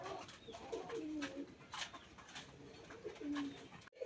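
Orange Chila pigeons coo in a series of low, soft calls, a close pair murmuring steadily over a faint background hiss.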